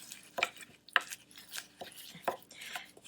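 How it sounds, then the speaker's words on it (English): A thick mixture of cornstarch and watercolor paint is stirred in a container, with irregular knocks and scrapes of a utensil at close range and uneven spacing. No one speaks. "now I'm going to stir this up"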